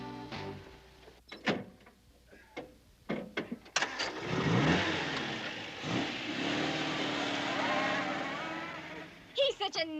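Sports car engine starting, then revving loudly as it pulls away and accelerates, a sustained roar with shifting pitch after a few mechanical clicks and thumps; voices are heard talking early on.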